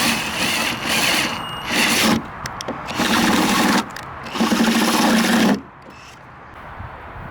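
A power drill bores into metal on a Land Rover Defender 90 during restoration, loud close bursts of whining drilling that start and stop several times before falling quiet.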